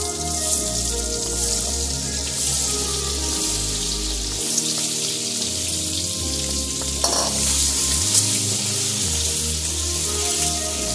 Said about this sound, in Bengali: কড়াইয়ের মধ্যে আমি তেল দিয়ে দিয়েছি, এবার আমি ডিমগুলো সব ছেড়ে দিচ্ছি।